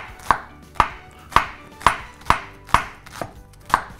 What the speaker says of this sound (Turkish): Soğanları biraz daha küçük kıymaya çalışacağım.